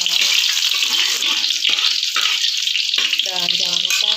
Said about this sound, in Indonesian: Lalu kita tumis seperti ini ya teman-teman.